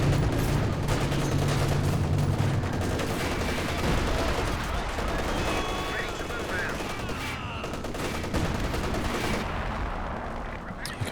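Company of Heroes 2 Grenadiers open fire from long range, a dense battle soundscape of sustained rifle and machine-gun bursts with scattered louder shots and explosions running continuously throughout.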